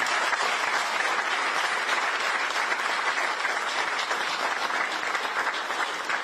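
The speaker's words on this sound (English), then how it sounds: "he needs a better applaud, a bigger applaud than that." A large crowd at a temple event claps steadily and densely, sustained applause at an even level throughout with no pause.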